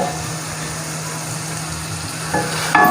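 Potatoes fry in spices for aloo gobi, a steady close sizzle with soft stirring scrapes, louder bumps near the end.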